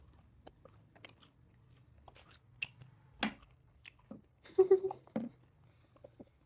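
Someone chews crunchy Manchurian during an eating challenge, with several distinct crisp bites and crunches, close and fairly quiet against a hushed background, louder toward the end.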